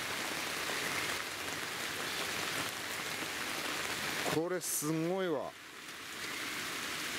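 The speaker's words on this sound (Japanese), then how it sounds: "未だかつてないぐらいの雨かな。" Heavy rain falls on a DOD Natural Hexa camping tarp at a campsite as a dense, steady roar. Midway a person speaks briefly over the downpour.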